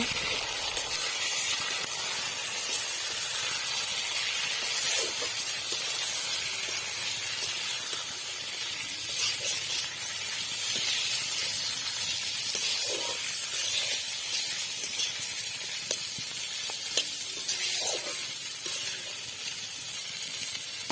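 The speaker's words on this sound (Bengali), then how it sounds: "এবার এর মধ্যে কিছুটা মটরশুঁটি দিয়ে আবার ভালো করে কিছুটা ভেজে নেব" Ground Gobindobhog rice paste and green peas frying in a pan for a Bengali fish-head ghonto, giving a steady, even hiss with soft occasional stirring clicks throughout.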